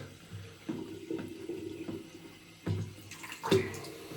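Tap water runs and splashes as a face is rinsed after a shave with Joserra Malvasia soap, soft and close, with several louder splashes from cupped hands.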